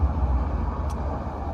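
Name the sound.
road traffic passing outside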